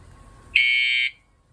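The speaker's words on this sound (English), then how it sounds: "The alarm also has a horn." Ebike anti-theft alarm horn giving one shrill, steady high-pitched electronic beep lasting about half a second, loud and close, with quiet room noise before and after.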